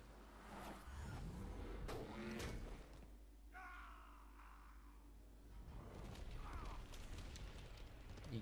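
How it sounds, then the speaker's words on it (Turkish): A car approaches and speeds up in the fighting game Injustice: Gods Among Us, a rising engine roar mixed into busy game sound and music, swelling as it draws near. "Bak arabanın sesi geliyor arkadan."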